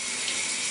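A spray nozzle hisses steadily as it sprays water over a sewing machine being degreased, a brief, close, continuous rush with no voices.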